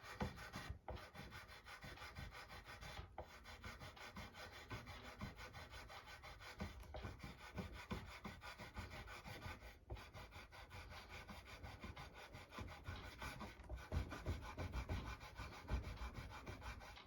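A guitar is rubbed and polished by hand, a soft, continuous scrubbing and rasping with a few brief pauses, close but faint, and no voices.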